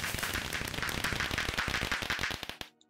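Minecraft fireworks rockets go off in a rapid, loud series of crackling bursts and pops, close and densely packed, cutting out abruptly near the end into near silence.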